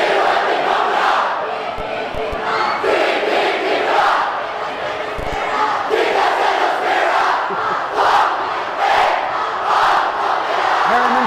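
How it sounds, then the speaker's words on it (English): Loud high school basketball crowd at Herriman at Mountain Ridge, cheering and chanting continuously with rhythmic surges of voices throughout, filling the gym with dense, sustained noise. "Listen to this crowd."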